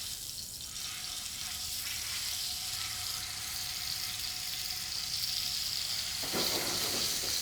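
Venison sears in hot oil in a pan, a continuous bright sizzle held close and fairly loud throughout, swelling slightly near the end, with no one speaking.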